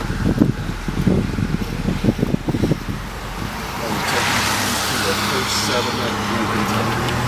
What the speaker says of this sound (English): We're just going driving around Perryville to check it out.